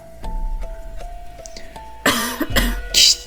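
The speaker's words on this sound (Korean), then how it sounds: "기침 같기도 하고 웃음 같기도 한 소리였다" A few harsh, raspy coughs burst out near the end, loud and close, after a quieter stretch with a steady faint hum.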